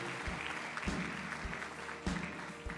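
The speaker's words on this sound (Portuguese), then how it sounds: "Dou para Jesus uma salva de palmas, irmãos" A church congregation applauds during a worship service, a dense, moderately loud round of clapping with a few louder low thumps scattered through it.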